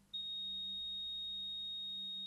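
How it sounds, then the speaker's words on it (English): A buzzer switched on from a Node-RED dashboard toggle sounds as a continuous high steady tone that starts abruptly and holds without a break, with a faint low hum beneath it. "my buzzer goes on"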